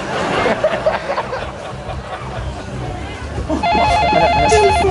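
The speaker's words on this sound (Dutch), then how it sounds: "Telefoon." A telephone rings with a steady, repeating electronic trill during a stage comedy show, coming in toward the end over a noisy room where people talk and chuckle.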